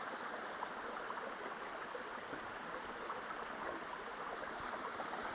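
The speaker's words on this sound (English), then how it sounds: "So here we are doing a pretty standard water bottle fill." Water from an alpine glacial waterfall stream filling a water bottle, heard as a steady, close rushing and trickling flow that holds even for the whole stretch, with no talking.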